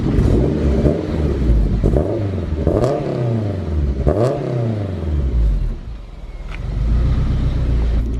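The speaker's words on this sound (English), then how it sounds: "the car sounds freaking awesome" A turbocharged, K20A2-swapped Honda CRX engine revs up and down several times, rising and falling in pitch with a deep rumble and some clatter, close and loud, then settles toward idle before climbing again.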